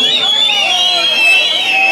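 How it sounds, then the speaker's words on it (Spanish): Men in a concert crowd in Coyahue whistle in a sustained, shrill chorus, with a steady high tone held over the background crowd noise for a couple of seconds. "Que chiflen los hombres, que chiflen los hombres."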